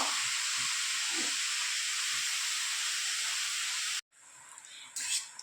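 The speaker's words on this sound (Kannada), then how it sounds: "ಕ್ಯಾರೆಟ್ನ ತುಪ್ಪದಲ್ಲಿ ಚೆನ್ನಾಗಿ ಫ್ರೈ ಮಾಡ್ಕೊಳ್ಬೇಕು" Grated carrot fries in ghee in a pan for carrot halwa, giving a loud, steady sizzling hiss that stops abruptly, followed by faint clatter.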